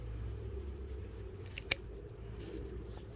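Scissors snipping a sweet potato stem to root as a slip: one sharp, close click of the blades stands out from a quiet room hum, with faint handling noises around it.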